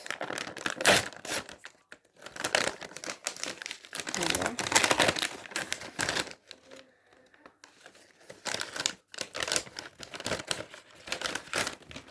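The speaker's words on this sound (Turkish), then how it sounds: "Şimdi bu paketi açıyoruz" A paper package is opened close up with bursts of crinkling, rustling and tearing paper in several rounds, separated by short pauses, as a voice talks quietly in between.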